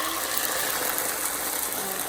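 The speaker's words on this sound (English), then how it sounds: "Hear that sizzle." Vegan liquid egg sizzling in a hot pan, a loud, dense, steady hiss of frying that fills the whole moment without pause.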